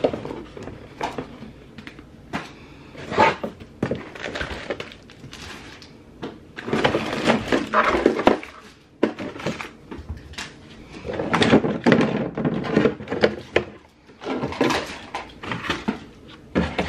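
A wooden dresser drawer is slid open and shut several times while baby clothes are being organized, giving bursts of scraping and rumbling slides with knocks between them, close and fairly loud, with short quiet gaps.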